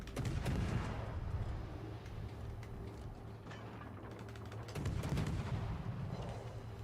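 Video game gunfire from a tank battle, heavy booming shots and rumbling blasts repeating over a steady engine drone, loud and close, with the loudest burst near the end.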